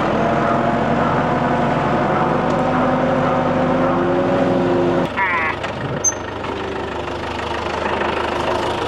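A John Deere 5520 tractor idles with a steady low knocking diesel rumble while pulling a huge storm-felled oak, close and continuous, then the tone drops and thins partway through as the load eases.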